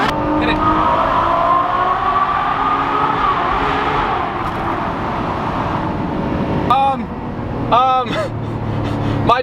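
McLaren 570S supercharging hard in race mode, its engine roaring loudly and continuously close by with rising pitch sweeps as it gears through acceleration, while people talk excitedly over it.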